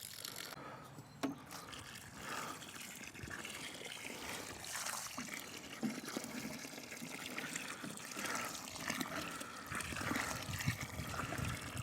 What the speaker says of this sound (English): it's going to be quicker to get watering cans from the butt.